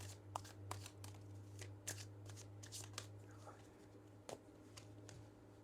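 Energy oracle cards are shuffled by hand in a quiet room, a rapid series of soft riffling flicks and taps over a low steady hum.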